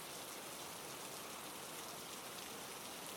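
Steady, even rain falls throughout, a soft continuous hiss with no voices, ending in a brief loud bump at the very end.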